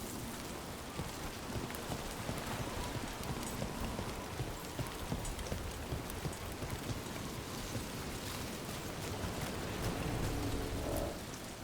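Steady rain falling in Dragon Age: The Veilguard, a continuous dense patter of drops on surfaces, heard alone with no voices and with faint hoof-like clopping mixed in.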